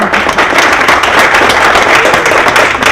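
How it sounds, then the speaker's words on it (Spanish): An audience gives dense, loud applause for a new team member at a business talk. Many hands clap continuously and close for a few seconds. "Os pido un fuerte aplauso para ella"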